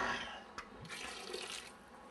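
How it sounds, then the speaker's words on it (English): Water running from a tap into a cooking pot in a home kitchen, a steady close splashing stream that carries on alone throughout. "we're going to take a little water"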